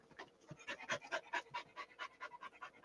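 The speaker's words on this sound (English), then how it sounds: "She's sitting over here beside me doing the panting thing again." A dog pants steadily beside someone indoors, a quick rhythmic run of close, breathy huffs repeating for the whole stretch at a moderate level.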